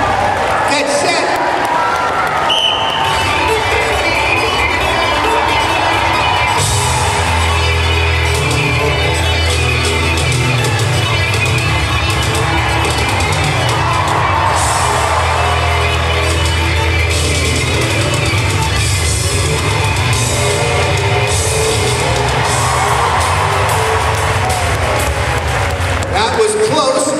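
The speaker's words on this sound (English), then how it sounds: "Let's cheer on Anne Marie" A crowd at the SuperDogs show at the CNE cheers on handler Anne Marie during a dog agility run, a loud, continuous roar from a large audience with an announcer talking throughout.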